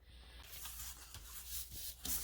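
Small scissors cutting out a paper card, close and quiet, a soft continuous rasping and rubbing of blades through paper with a few brief louder snips, no voices.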